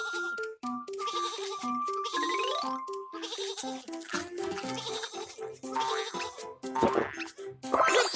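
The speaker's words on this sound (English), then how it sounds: "Some sheep are on the train track." Cartoonish sheep bleat on a train track in a nursery-rhyme train animation, with repeated short bleats over bouncy music and playful sound effects.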